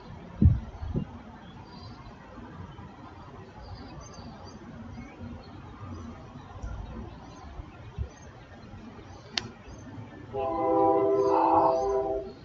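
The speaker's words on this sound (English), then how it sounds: "Oh, I heard a train horn." A distant BNSF train horn sounds near the end in Navasota, Texas, a short tonal blast rising over quiet ambient rumble, preceded by a few faint knocks.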